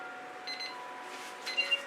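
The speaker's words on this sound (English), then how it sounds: "there's the timer" Short electronic timer beeps sound during an acrylic fluid-pouring art session, a few faint tones near the start and two sharper beeps near the end over quiet room tone, with no talking.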